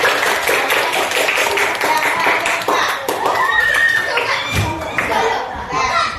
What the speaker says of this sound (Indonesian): tepuk tangan untuk tiga kelompok kita hari ini